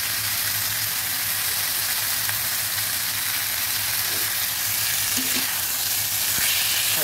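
Small dried kechki fish fry in a pan with a constant, dense sizzle, broken by a few faint scraping stirs, close by and uninterrupted.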